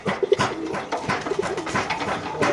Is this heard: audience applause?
no